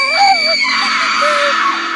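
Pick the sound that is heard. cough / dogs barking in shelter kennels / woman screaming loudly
woman screaming loudly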